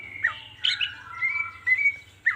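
A green leafbird (cucak ijo) sings a series of bright whistled chirps and short trills in quick bursts, fairly close and clear, over a low steady hum.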